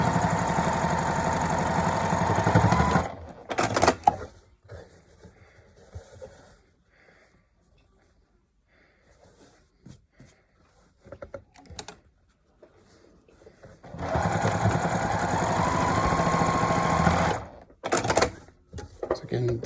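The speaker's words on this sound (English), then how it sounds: "I'll do all the tops and chain stitch them." Sewing machine chain stitching face masks, running in two loud, fast, steady bursts that frame a quieter middle stretch of handling noises and a voice speaking.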